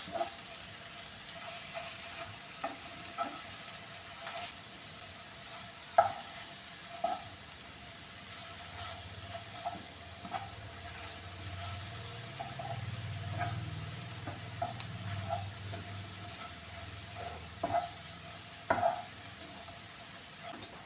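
Masala mixture being stirred and fried in a pan while making fish fry, a low soft sizzle with intermittent scraping and clinking of a spoon against the pan, no talk.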